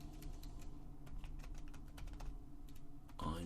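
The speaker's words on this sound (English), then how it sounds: "we'll go ahead and type ConvertKit course" Rapid, close clicking of computer keyboard keys as someone types, an even run of taps over a low background hum, ending in a brief burst of noise.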